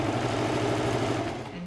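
A sewing machine stitches the curved seam of a pocket bag for a side seam pocket, giving a loud, close, rapid mechanical rattle that runs steadily and eases off near the end.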